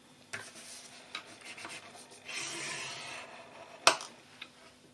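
A scoring tool drawn across paper for a tealight box, giving a faint dry scraping stroke of about a second, with soft taps and a sharp click nearby, quiet and close.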